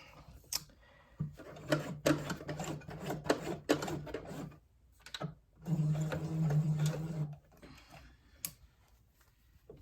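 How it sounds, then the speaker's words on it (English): A domestic sewing machine stitching a set-in sleeve, short bursts of rapid mechanical ticking run in a few starts and stops controlled by a foot pedal, close and moderately loud. "You're going to back stitch in the beginning."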